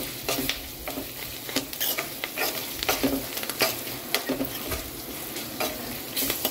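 Poha cooking in a pan for a home breakfast, a close, quiet sizzle with repeated stirring scrapes, and no talking.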